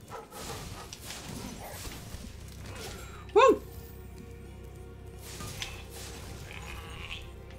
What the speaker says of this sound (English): it's a sheep on stilts